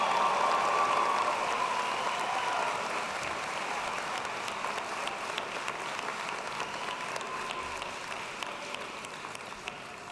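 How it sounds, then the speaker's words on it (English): A large commencement crowd in Gentile Arena applauds finance graduates, a steady, dense wash of clapping from many hands that holds for about ten seconds and slowly thins. "Now it's time to clap for all those finance majors who just came through."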